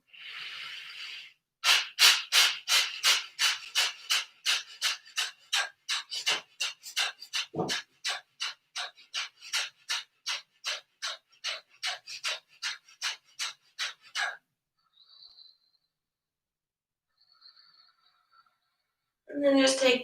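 Rapid, rhythmic forceful breaths in a yoga breathing round of 36, steady sharp exhales repeating for about thirteen seconds, then stopping into quiet with faint held sounds before a final inhale.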